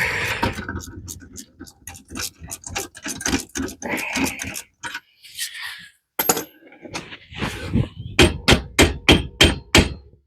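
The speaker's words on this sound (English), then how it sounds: "back to the ratchet. So I can do things a little slower" Ratchet wrench clicking in short bursts during a Jeep to Ford 8.8 rear axle swap in the snow, mixed with clunks and taps, with a regular run of sharp clicks near the end; a voice speaks briefly in between.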